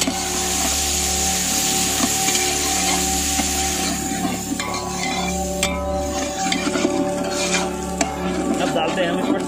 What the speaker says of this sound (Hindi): अब इसमें डालते हैं हम अदरक लहसुन हरी मिर्च का पेस्ट